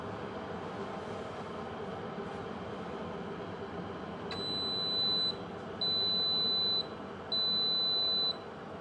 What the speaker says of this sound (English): Okay, so you heard it beep